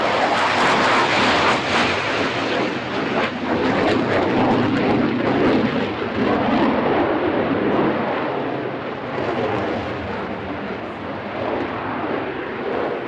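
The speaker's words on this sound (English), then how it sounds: "This is the new Danish Viper demonstration aircraft" A Danish F-16 Viper fighter jet in a flying display at the Farnborough International Airshow 2024 roars loudly and continuously, its broad engine noise sweeping and fading slightly as it passes.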